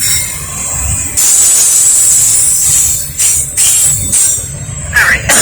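A Norfolk Southern freight train rolls past at about 35 to 45 mph near Kenny/Lynchburg, Virginia, a loud close roar of wheels with high squealing and hissing, the rumble swelling and pulsing as cars go by.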